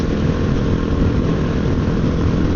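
Honda XR650L 650cc motorcycle cruising at about 75 mph on a highway, a constant loud engine drone mixed with rushing wind noise throughout, no talking.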